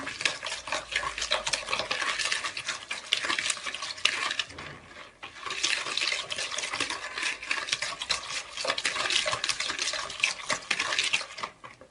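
Oil and sugar are stirred together in a bowl as the base of a quick chocolate brioche dough. Brisk, continuous scraping strokes sound close by, with a brief lull midway before the mixing picks up again.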